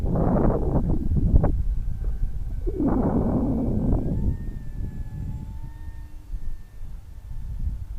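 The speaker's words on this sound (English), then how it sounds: "Got some wind out here now." Gusty wind buffets the microphone outdoors at a model jet flying field, a loud rumbling roar throughout, with faint thin tonal whines drifting above it.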